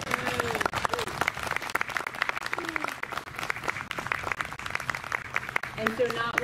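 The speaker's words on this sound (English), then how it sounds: "Big round of applause." A church congregation gives a big round of applause to Sunday school teachers during morning worship. The clapping is close and continuous, with scattered voices and calls mixed in.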